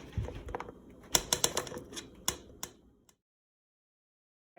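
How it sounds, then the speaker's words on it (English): Peppers for chicken soup are cut on a board, a close run of sharp knife taps and clicks in an uneven rhythm that stops after about three seconds, leaving silence. "You cut peppers up and you put them in the soup."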